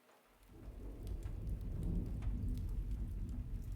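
Steady rainstorm with deep, rolling thunder rumbling beneath the downpour, building after a brief quiet start and staying loud and continuous throughout, with no voices.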